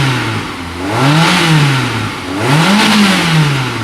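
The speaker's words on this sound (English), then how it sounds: "the beautiful two fat stainless steel exhausts, which sounds bonkers" An MG TF convertible's engine revs hard through twin fat stainless steel exhausts, rising in two loud, booming surges with a throaty drone between them, close by and with no talking.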